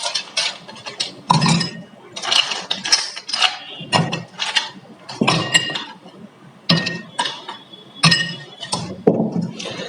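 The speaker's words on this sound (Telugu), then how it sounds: "ఇప్పుడు ఐస్ క్యూబ్స్," Ice cubes drop into a glass one after another, making sharp bright clinks and rattles in an irregular rhythm close by, for a ginger lemon sherbet.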